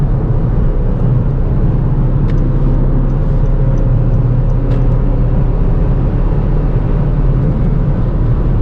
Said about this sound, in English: I don't even think you guys will be able to hear the engine over the road noise